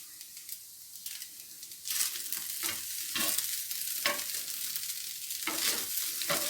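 Chicken patty filling fries over a low flame, a soft steady sizzle broken by repeated louder scraping stirs in the pan.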